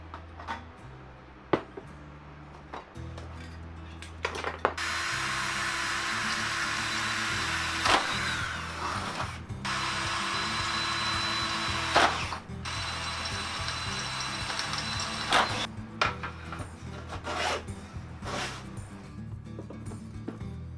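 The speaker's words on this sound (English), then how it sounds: "So I am going to get some holes drilled in this metal" Holes are drilled into sheet metal for a backyard carnival ride. Long bursts of loud, harsh drill whine are broken up by sharp clicks and clanks of handling between the cuts.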